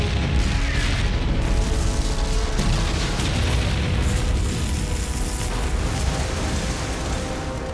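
Guns firing and shells exploding during the Normandy landing as tanks near the shore, a dense, loud, continuous rumble of blasts and booms that fills the whole stretch with no pauses.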